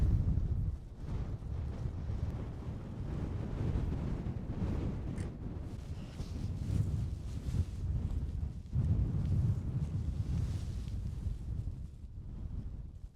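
Strong, steady wind buffets the microphone high on a Lake District fell near Grasmoor, a continuous roaring rush with gusts rising and falling throughout and no voices.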